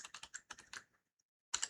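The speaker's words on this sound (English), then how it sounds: "Now we're going to type in" Typing on a computer keyboard while entering commands during a secure boot key update on legacy HP hardware: a quick run of close, crisp keystrokes, a pause, then another burst of keys.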